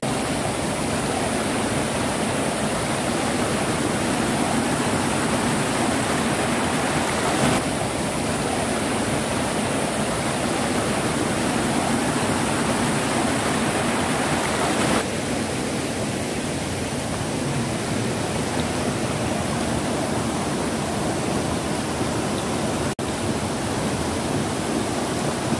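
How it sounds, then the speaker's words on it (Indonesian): Curug Cibulao waterfall in a natural forest setting, a loud, constant rushing roar of falling water that fills the whole stretch without pause. "air terjun Ciblau."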